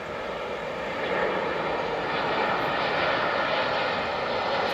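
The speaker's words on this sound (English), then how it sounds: "This one's a jet." A large jet airliner passes overhead by a river in Trenton, a steady broad roar that swells slightly and holds, fairly loud and continuous with no talking.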